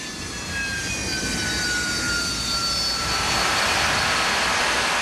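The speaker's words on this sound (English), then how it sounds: "To accomplish the mission, the Harriers fly low" A Harrier jet flies low overhead, its engine roaring steadily and growing louder with a whining high tone that shifts as it passes close.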